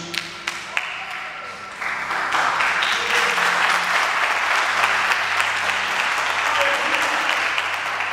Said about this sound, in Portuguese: Toma o teu assento aplaudindo a Jesus